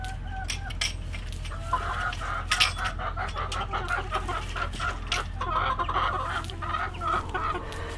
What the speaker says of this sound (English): I'm releasing the chickens.